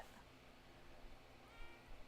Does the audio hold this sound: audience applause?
no